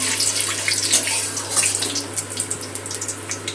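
Whole cumin, bay leaf and slit dried red chilli crackle and sizzle in hot oil as the tempering for a Bengali katla kalia fish curry, a dense, close, continuous hiss with fine popping.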